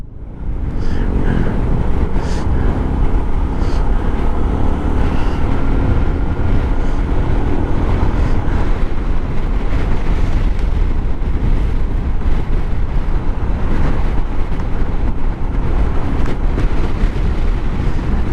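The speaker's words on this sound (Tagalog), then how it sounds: "Alakas ng hangin." Strong, steady wind off the Pacific Ocean at Dingalan after Typhoon Karding roars and buffets the microphone throughout, loud and constant, with a low engine rumble underneath.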